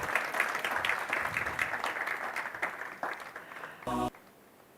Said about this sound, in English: Please can we give our ministers a round of applause as they're going to make their exit.